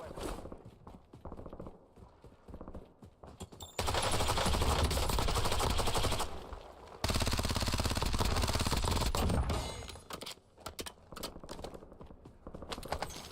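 Loud, sustained automatic gunfire from the video game Warzone rattles in two long dense bursts, with quieter keyboard-like clicking and game sounds before and after.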